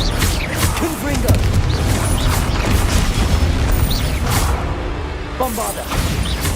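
Fire spell blasts from Hogwarts Legacy boom and crackle in a dense, loud barrage during a goblin battle, layered with whooshes and mechanical clatter and overlapping game voices.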